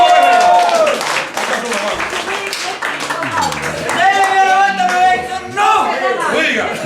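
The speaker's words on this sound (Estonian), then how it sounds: "Teeme meestele suure aplausi." Applause and clapping from a crowd at a men's folk dance celebration for a 50th birthday, steady and loud throughout with voices and chatter mixed in.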